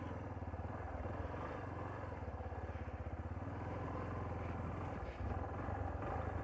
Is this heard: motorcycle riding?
yes